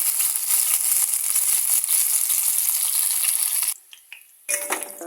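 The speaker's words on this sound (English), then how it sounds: "Then I'm going to put a piece of thyme and some garlic." A sprig of thyme and garlic sizzle loudly in a little hot oil in a pot, a steady bright frying hiss that cuts off near the end and then flares up again briefly.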